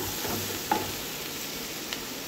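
A sweet potato curry is stirred in a pan over the heat, giving a steady, close sizzle with a faint scrape of the spoon and no voices.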